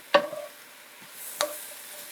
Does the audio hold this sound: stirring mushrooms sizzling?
yes